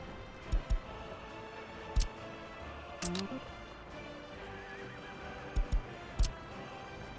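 A horse neighs in the city-building game Workers & Resources: Soviet Republic. Brief whinnies and clicks surface now and then over a steady ambient game bed.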